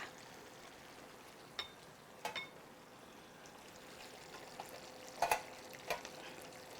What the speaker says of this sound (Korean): 스파게티 소스가 이렇게 졸아들면 여기에 면을 넣도록 하겠습니다